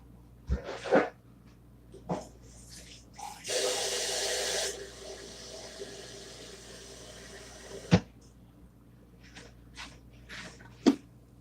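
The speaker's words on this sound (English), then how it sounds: "Might add in just a little bit more water to that." Water runs from a tap for a few seconds, a steady hiss amid scattered thumps and clatter of nearby household handling, with no talking.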